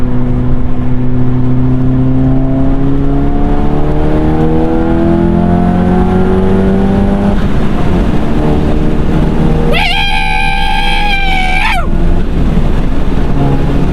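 A VW Golf MK7 GTI fitted with a new intercooler accelerates hard, with engine revs climbing loudly through the gears under heavy road and wind noise, and a brief high whine or chirp partway through.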